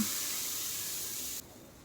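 Baby food batter for a toddler meets a hot griddle with a soft, steady hiss, then the sizzle cuts off abruptly and leaves quieter background noise.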